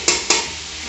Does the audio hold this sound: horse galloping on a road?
no